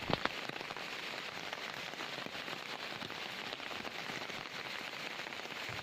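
Steady heavy monsoon rain in July patters continuously on a hard surface, a dense, even hiss of drops with no voices.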